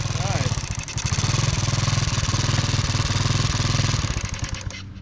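A Honda CT70 pit bike engine runs close and loud, a rapid steady putter with a rhythmic pulse that holds and then fades toward the end.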